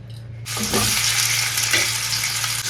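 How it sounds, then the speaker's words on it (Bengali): Steady crackling sizzle of potatoes frying in hot oil, starting after a brief quiet moment and continuing evenly with a low hum underneath. "এদিকে আলুটা ভাজা হচ্ছে"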